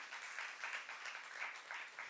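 A church youth congregation applauds during a sermon, a soft, distant patter of many hands in uneven waves that rise and fall across the whole stretch, with no speech on top.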